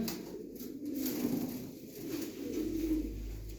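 A male pigeon coos in a bird sale setting, low rolling coos repeating a few times at close range over a faint background hum.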